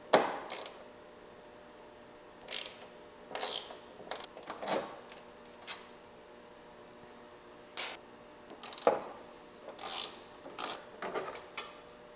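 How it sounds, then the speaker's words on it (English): Ratchet clicks while two T25 bolts come out from under a cover near a Porsche 911 taillight, in short bursts of close, crisp ratcheting spread across the span with quiet gaps between. "there are two T25 bolts that we're going to remove"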